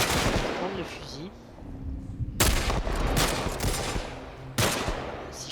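Rifle gunfire in The Last of Us Part 1, a few loud sharp shots spaced seconds apart, mixed with game sounds and a voice talking in between.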